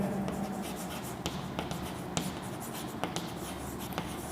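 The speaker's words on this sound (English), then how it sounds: "Now we will write here" Someone writes on a board during a Class X maths lesson: quick, close scratching strokes with sharp taps every half second or so, over a steady room hum.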